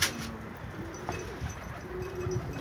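Soft, low cooing of a pigeon sits beneath steady outdoor noise, faint and somewhat distant.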